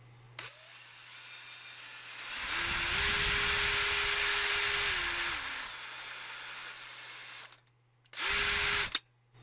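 A DeWalt DCD709N 18 V cordless drill whirs loudly at steady high speed in second gear for a few seconds, winds down with a quick built-in brake stop, then gives another short burst.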